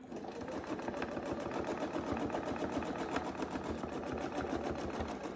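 A sewing machine runs steadily for ruler-work quilting, its fast even needle rhythm close and continuous with no talking.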